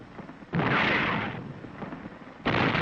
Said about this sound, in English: Artillery commenced to bombard the city